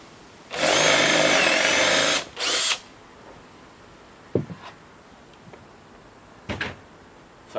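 A power drill whirs loudly for about two seconds, then gives a short second burst, followed by a few scattered knocks and clicks in a quiet room.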